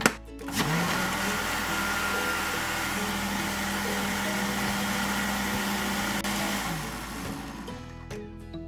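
A blender mixing bulletproof coffee runs steadily for several seconds with a loud, even motor whir, starting abruptly and winding down near the end.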